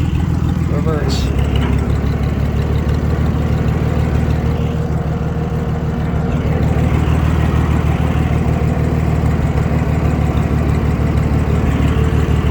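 A Massey Harris 102 tractor engine runs steadily in reverse, a loud, close, continuous rumble with little change in pitch, while people talk nearby.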